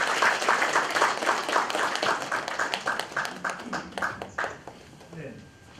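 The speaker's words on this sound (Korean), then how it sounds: "앞으로도 계속 잘 할 수 있도록 좀 두 분 또 안 계시지만 임 집사님에게도 박수 부탁드립니다" Church congregation applauding its treasurers after the service, a short round of scattered hand claps that thins out and fades, with a voice speaking over the claps.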